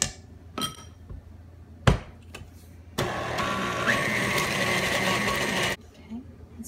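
An electric kitchen mixer switched to high speed whirs steadily for under three seconds after a few clunks and taps, then cuts off, with a voice speaking briefly nearby.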